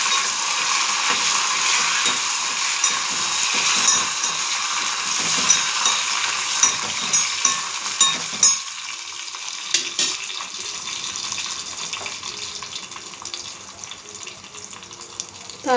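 Garlic, curry leaves, coriander and dried red chillies fry in hot oil for a tempering, a steady bright sizzle with a few soft stirring knocks partway through, close and without talk.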